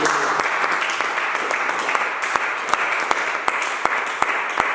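A congregation at a church service applauds, sharp hand claps falling in a loose rhythmic beat over a steady bed of crowd noise, close and fairly loud.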